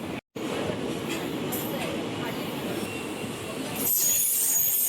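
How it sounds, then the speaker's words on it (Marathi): A Mumbai local train pulling into a platform, a steady rumbling roar with rising high-pitched wheel squeal toward the end, close and loud. "आपल्याला आपली लोकल ट्रेन येणार आहे, त्याने जायचं आहे."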